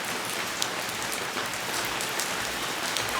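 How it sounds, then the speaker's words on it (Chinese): Steady rain patters on surfaces outdoors, a dense, even hiss of countless drops with a few slightly louder splashes, nearby and continuous, with no talk. "今天呢下雨"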